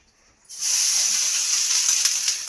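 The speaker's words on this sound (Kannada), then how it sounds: "ಇವಾಗ ದೋಸೆ ಮಾಡ್ತಾ ಇದ್ದೀನಿ" Dosa batter hits a hot pan and breaks into a loud, steady sizzle that keeps going without a break, close by, with no voices over it.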